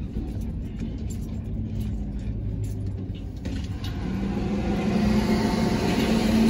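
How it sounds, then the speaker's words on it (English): Heavy trucks pushing trash around a junk dump, a steady low engine rumble and grinding that grows louder and closer toward the end, with no talk. "We just gotta wait until those trucks over there finish pushing the trash back"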